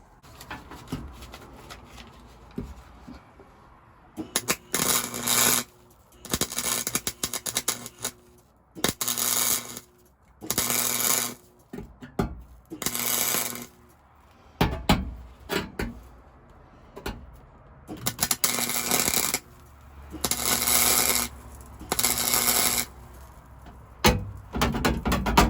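A MIG wire welder lays tack welds on a rusted floor repair panel, with repeated bursts of crackling, sputtering arc lasting a second or two each, separated by short pauses, close and loud.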